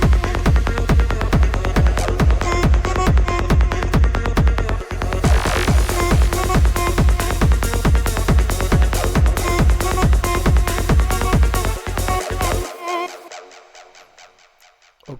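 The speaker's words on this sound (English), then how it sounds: "side techno drop" A side techno drop called Mantra, in the style of Indira Paganotto, pounds with a loud, steady, dense kick-driven groove, then cuts out and leaves a fading tail.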